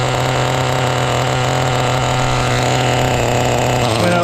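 An HPI Nitro RS4 RC car's small nitro engine idling, a loud, steady, buzzing drone held evenly at close range.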